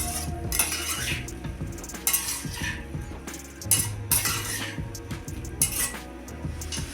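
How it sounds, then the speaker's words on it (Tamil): Watermelon pieces are sautéed in a pan, heard as repeated metal spoon scrapes and clinks against the pan in irregular strokes over a low background. "இது ஒரு ரெண்டு மூணு நிமிஷத்துக்கு நல்லா வதக்கிக்கலாம்"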